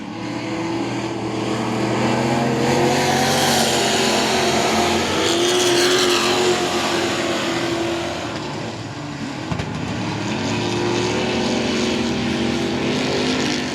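Dirt-track race trucks roar around the I-37 Speedway oval in Texas, several engines blaring loud and close with rising and falling revs as the pack passes, a steady wall of motor noise with no voices.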